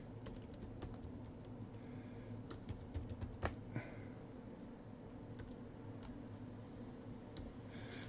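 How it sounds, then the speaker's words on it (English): Typing a fastboot command on a computer keyboard to switch an Android device's boot slot: scattered, crisp key clicks in uneven bursts over a steady low background hum. "Since it's not copy pasting for some crazy reason, let's just put the command in manually."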